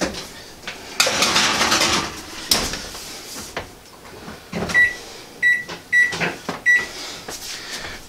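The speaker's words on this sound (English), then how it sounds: "put this in the oven for 13 to 17 minutes" A tray of pesto pinwheels goes into an oven with a rush of clattering and handling, then a door closes, and a run of sharp electronic beeps sounds from the oven's controls.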